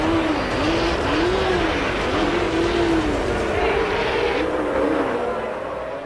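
Indianapolis-style race car no. 44 at Rafaela, its engine whining up and down through repeated rising gear-change sweeps, loud and close and then gradually fading, with a voice talking over it.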